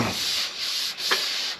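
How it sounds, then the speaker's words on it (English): Block sanding Bondo body filler during rust repair on a 2002 Ford F350 truck, a steady abrasive rasping with back-and-forth strokes, close and continuous, with no talk. "Just when you're block sanding it"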